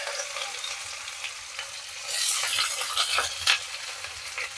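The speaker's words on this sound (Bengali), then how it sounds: "এবার দেখো এখানে আমি পেঁয়াজ দিয়ে দিলাম।" Sliced onions hit hot oil in a pan with a little cinnamon, cooking for Bengali methi saag; a soft sizzle swells into a louder, crackling fry with faint spatula scrapes, and no talk.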